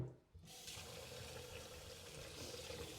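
Tap water runs steadily into a sink over cooked chickpeas, a continuous soft splashing rush after a brief quiet start.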